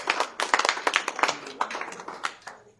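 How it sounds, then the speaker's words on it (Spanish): Audience applause at a Guadalajara book presentation evening, just before a singer-songwriter closes the night: a short burst of scattered, uneven hand clapping from a small crowd, fading out after a few seconds. "Aplausos, por favor."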